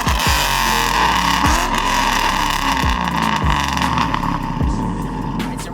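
A 2005-09 Ford Mustang with the 3-valve V8, fitted with an off-road X-pipe and a bombs axle-back exhaust, rumbling loud and close with repeated sharp throttle blips and revs over a deep burbling idle.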